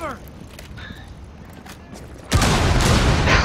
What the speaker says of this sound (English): throw a grenade in there